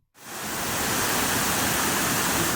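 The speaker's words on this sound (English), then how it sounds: "Also listen to thundering waterfalls" A thundering waterfall in Bali, a dense roaring wash of falling water that rises from silence and holds loud and steady with nothing else heard.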